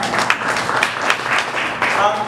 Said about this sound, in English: A round of applause to everybody for showing up.